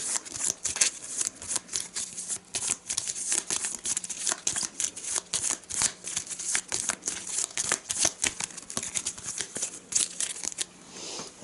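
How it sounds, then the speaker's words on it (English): Arkham Horror board game cards are shuffled together at close range, a quiet run of rapid riffling and flicking bursts repeating steadily for about eleven seconds. "Let's see, shuffle these together."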